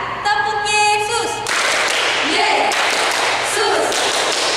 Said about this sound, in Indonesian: kakak ajak tepuk Yesus dulu ya